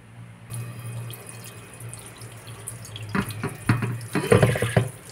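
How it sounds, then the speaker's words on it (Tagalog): Tap water runs into a sink while a whole pineapple is rinsed under it, a soft steady stream that turns louder and more splashy near the end as the fruit is handled in the flow. "siguro, hugasan ko muna ito para malinis"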